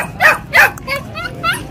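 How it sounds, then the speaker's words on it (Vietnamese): Puppy at an open-air dog market in Bac Ha, giving a few short, high yips and barks close by, several quick bursts with brief pauses, amid light background chatter. "Nghe thế, đã biết sủa của nhà rồi."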